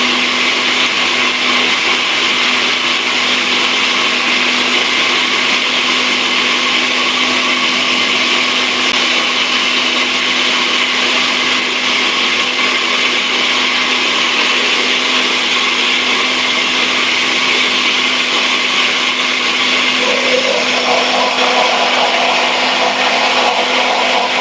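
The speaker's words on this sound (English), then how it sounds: "so we're going to go ahead and just keep mixing it." A blender whirs steadily through homemade beeswax lotion, a loud, unbroken motor drone with a constant hum that shifts slightly in tone near the end.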